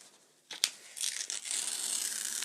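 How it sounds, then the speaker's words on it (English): Green paper ripped by hand into strips, a sharp tear onset followed by a sustained, rustling rip that carries on for over a second, close and fairly quiet with no talking. "There's something quite satisfying about ripping paper."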